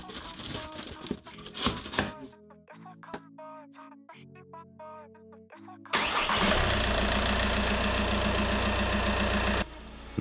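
A VW Passat B7 with a 2.0 TDI diesel engine, freshly fitted with a new timing belt, cranks through a few quiet strokes, then catches and settles into a loud, steady, close diesel idle that continues until the end.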